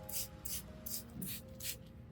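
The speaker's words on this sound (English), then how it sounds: "spray this solution onto the entire orchid to remove dust, mold, and any pests on the plant" A hand spray bottle mists solution over an orchid plant in five quick, evenly spaced hissing bursts, close and fairly soft.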